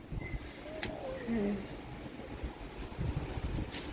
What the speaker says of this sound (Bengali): একদম ঝড়ের মতন হাওয়া,